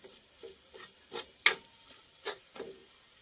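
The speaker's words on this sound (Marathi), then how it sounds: "एक मिनिट मसाला चांगला परतून घेऊया." Masala being stirred and sautéed in oil in a pan for stuffed brinjal, with a series of soft scraping stirs and a light, quiet sizzle underneath, close by.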